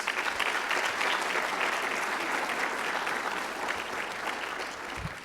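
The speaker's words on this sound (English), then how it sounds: "let's give them both a round of applause" An audience at a plant-based nutrition conference claps in a dense, steady round of applause that fills the whole stretch and tapers only slightly toward the end.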